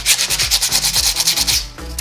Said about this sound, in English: So let's go ahead and sand this and see if I need to add more.